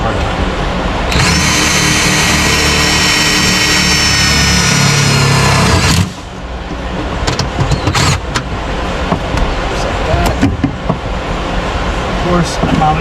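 Power drill boring holes into a Dodge Challenger Hellcat to mount a part, a steady loud whine held for about five seconds then cutting off, followed by scattered clicks and handling noise.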